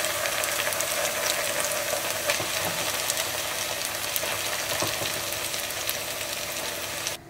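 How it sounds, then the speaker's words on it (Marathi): Onions frying with masala in a pan for a Goan beef sorpotel, a steady, dense sizzle that holds loud and close throughout with faint stirring scrapes, no talk over it. "मसाला हो सारको एटलीस्ट फॉर 2 मिनिट्स आमकां भाजूंक जाय ऑनियन्सान"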